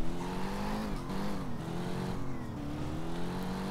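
Engine drone of a fast car in the driving game Driver Parallel Lines, a steady tonal hum with a slight rise and dip in pitch, sustained and fairly loud throughout.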